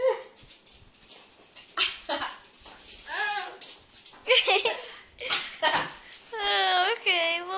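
A 5-month-old puppy close up, giving soft whimpers and small yelps with a few bright, rising whines near the end, mixed with a person's talk and laughter.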